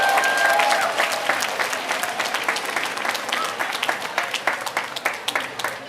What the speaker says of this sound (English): give each other a round of applause for all you do for this community